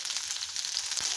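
Garlic and ginger fry in a hot pan with a steady, close, bright sizzle that holds at an even level throughout and carries no voices.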